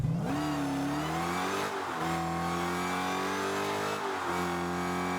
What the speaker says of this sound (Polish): dźwięk silnika